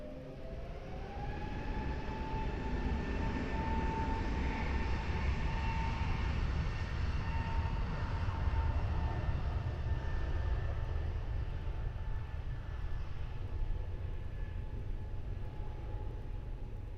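An airliner takes off from the runway at Lisbon Airport, its engines producing a steady, broad jet roar with rising whine tones, heard from a distance at moderate volume throughout.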